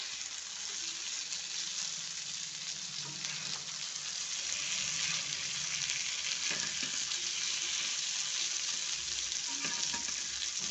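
Chicken deep frying in oil, a steady, dense sizzle and crackle holding at an even level from start to finish, close by and alone with no voices.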